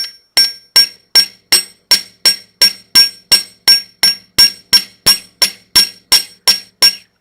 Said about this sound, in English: So I'm just going to hammer the curves more to flare them out.